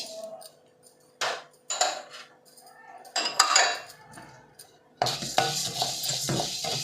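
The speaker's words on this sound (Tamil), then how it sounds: "அதையும் இந்த மாதிரி கொஞ்சம் பொன்னிறமாக வறுத்துக்கணும்" Urad dal roasting in a pan for pirandai powder, stirred with a metal spoon: sharp scrapes and clinks come in separate bursts, then a dense, continuous rattling stir up close.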